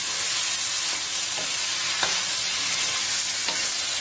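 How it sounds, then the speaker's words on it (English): Chilli mogo (cassava) pieces being stirred and mixed with sauce in a pan, giving a steady soft sizzle with a few faint scraping strokes of the spoon, close and continuous with no talking. "so we'll just mix it quite well"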